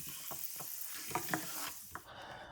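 Food frying in olive oil in a hot pan over medium heat for a Puerto Rican chicken breast stew, with a steady sizzle and several soft scraping stirs of a utensil against the pan.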